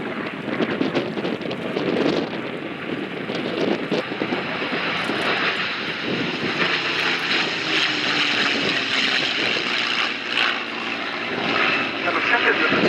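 A pair of warbird propeller aircraft passes at the Duxford Battle of Britain airshow, giving a broad engine roar that swells and holds. Wind buffets the microphone over the noise.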